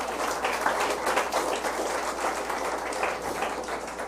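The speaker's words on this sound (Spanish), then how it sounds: "Den un aplauso al Señor" Congregation applauding during a church service, a steady, dense wash of clapping hands lasting several seconds at moderate level with no voices on top.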